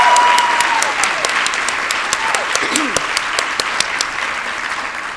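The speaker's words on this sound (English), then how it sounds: "so let's give him another round of applause." A banquet audience at a nursing association's legislator-of-the-year event gives a sustained round of applause, dense steady clapping throughout with a few sharper individual claps standing out.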